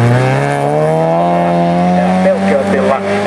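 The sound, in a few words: rally car driving on rally sprint stage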